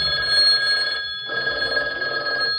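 A telephone rings during a school stage skit at an auditorium performance, sounding as a steady, bright, electronic-like trill with a short break before it resumes, loud and close.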